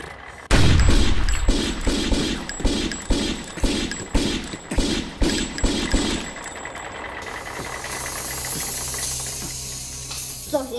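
A Heng Long 1:16 Leopard 2A6 radio-controlled toy tank firing, a fast run of sharp clicking shot bursts for several seconds, followed by a whirring motor and hiss as it drives off.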